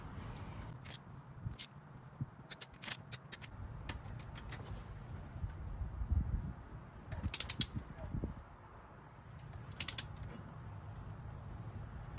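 A ratchet tightens rocker arm bolts on a Toyota 4AC engine, giving faint, intermittent clicking bursts of short pawl ticks with quiet pauses between them, nearby but low in level.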